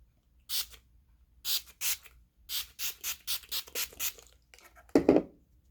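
Several short hissing bursts of a cosmetic aerosol spray, some in quick succession, close and fairly soft, ending with a brief clatter.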